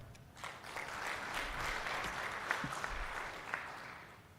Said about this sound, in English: Let's all give ourselves a hearty clap.